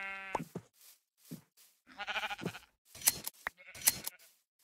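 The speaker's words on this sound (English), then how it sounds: "white sheep." Several sheep bleating in the game Minecraft, a series of separate wavering bleats of varying pitch spaced across the moment, fairly close and clear against silence.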